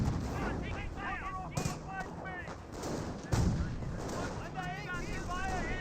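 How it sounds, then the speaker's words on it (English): Flak gun volley in the World War II strategy game Company of Heroes, heard as booming bursts of fire and explosions amid battle noise, with radio-style unit chatter and voices over it. "Oh, Flak Irving gets a volley there."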